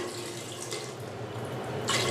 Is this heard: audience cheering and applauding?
no